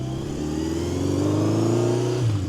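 A 1970 Honda CB750 K0 motorcycle with a fully rebuilt engine runs close by and low on fuel, its steady mid-pitched engine note climbing gently as it revs, loud and continuous with no talking.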